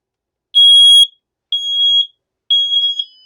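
A Honeywell 5800COMBO smoke sensor under test sounds three loud, piercing electronic beeps, each about half a second long and spaced evenly around one second apart, close and alone.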